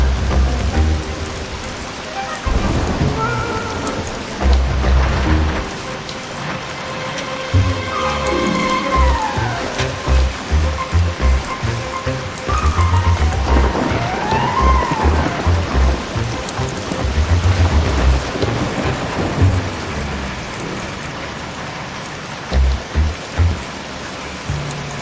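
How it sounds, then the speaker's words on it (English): Steady rain patters over a busy soundscape in the Bee Movie video game, with musical tones and rumbling effects rising and falling throughout; no distinct thunderclap stands out. "Oh, no, not the rain."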